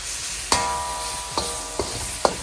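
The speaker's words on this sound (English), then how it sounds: "that stuff is going to hit this hot pan, and it is going to coat our lovely pork" Gochujang sauce and pork sizzling in a hot pan, a steady frying hiss broken by four sharp clinks of a utensil against the pan.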